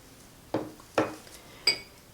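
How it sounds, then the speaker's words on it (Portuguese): Refined sugar is poured into a pan, three short distinct clinks and taps of utensil against cookware in a quiet kitchen. "aqui na panela eu coloco o açúcar"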